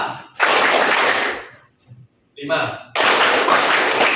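Bursts of group clapping in a 1-3-5 pattern, loud and close, in clustered rounds separated by short gaps, with a brief spoken cue in between.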